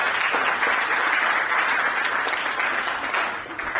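Sustained applause from an audience at a project launch event, a dense, even wash of clapping that holds steady for several seconds and eases slightly near the end.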